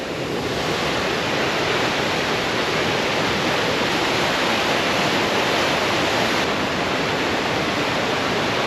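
Overland Falls on Mount Robson, at the headwaters of the Fraser River, roars steadily up close, a dense, unbroken rush of falling water with no pauses.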